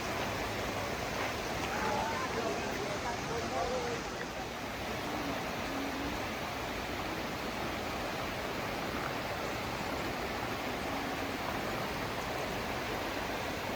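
Shannon Falls in British Columbia pours down as a constant broadband roar of falling water, heard steadily from nearby without pause.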